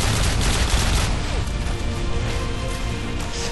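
Dense, loud gunfire from the Call of Duty MW2 mission "The Enemy of My Enemy" fills the whole stretch as a continuous battle barrage, with no talking over it.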